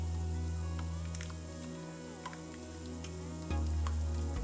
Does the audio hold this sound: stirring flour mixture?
yes